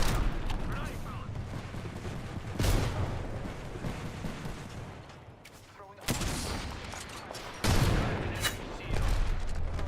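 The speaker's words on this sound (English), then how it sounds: "Enemy shooting at me." Rapid gunfire and grenade blasts in a shooter video game, with bursts of shots and sharp booms repeating loudly throughout, one heavier impact near the middle, over steady game noise.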